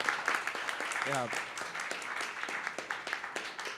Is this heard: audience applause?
yes